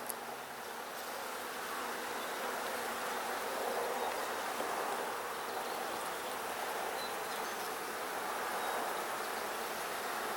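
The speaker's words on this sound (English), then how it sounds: "Next frame is very, very heavy with bees and thick with bees" Honey bees in a crowded, queenless hive frame buzz in a dense, steady drone that fills the whole stretch at an even loudness, with no voices.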